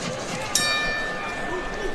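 A boxing ring bell at the Jaron Ennis vs Custio Clayton fight gives a single sharp ding that rings on briefly, over crowd noise and ringside commentary.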